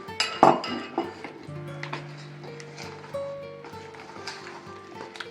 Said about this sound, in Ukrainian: Зараз потихеньку мішуємо масло.